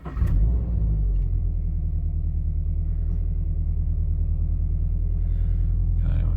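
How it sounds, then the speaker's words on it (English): A Subaru BRZ engine cranks and fires with a brief burst, then settles into a steady, close, low rumbling idle that carries on evenly to the end. "Okay, starting the car."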